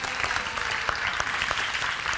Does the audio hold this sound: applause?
yes